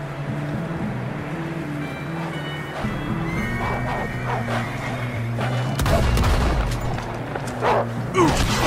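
A horse in Red Dead Redemption 2 whinnies loudly over hoofbeats and a rumbling game soundtrack, while booming gunfire and heavy thuds hit midway and toward the end.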